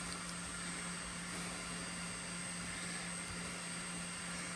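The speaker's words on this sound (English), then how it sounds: "That's the printer you hear in the background." A 3D printer runs with a steady mechanical whir and low constant hum, unchanged throughout, at moderate distance in the background.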